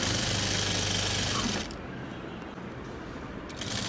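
Sewing machine stitching elastic onto a salwar waistband, with the elastic pulled taut by hand; a steady, close whirring run of stitching that stops partway, leaving softer mechanical handling noise, then starts briefly again at the end.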